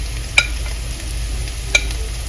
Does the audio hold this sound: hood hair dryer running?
no